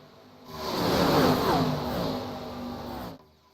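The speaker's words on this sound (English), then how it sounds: "Love the sound of these cars ripping past the camera." ARCA stock cars race past at Daytona, a single loud engine roar sweeping in and fading away over a few seconds as it rips by the camera, with no talk.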